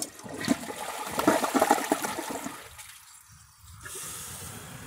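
A 2009 Kohler Wellworth Class 5 toilet flushes during a bowl rinse test: a loud rushing surge of water that fades into trickling refill with gurgles and drips, heard up close with no talking.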